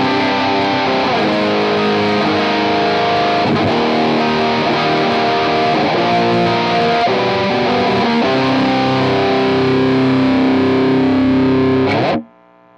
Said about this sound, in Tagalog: Ganito yung tunog ng Metal Zone.